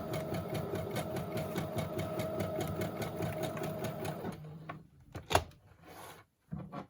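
A sewing machine whirs in a fast, steady mechanical rhythm for several seconds, then stops, leaving a few clicks and handling sounds.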